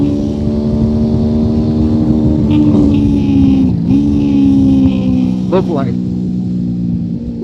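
A 1999 Honda VFR motorcycle engine drones steadily on an onboard lap of the Nürburgring Nordschleife, its harmonic whine rising and dipping with throttle changes, loud and close, while a rider talks briefly over it.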